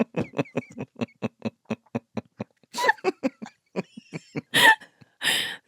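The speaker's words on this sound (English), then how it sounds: "Sorry, I'm coughing a lot through this." A run of short, sharp coughs repeats rapidly, close and loud, followed by a few harsher, breathier coughs and throat sounds near the end.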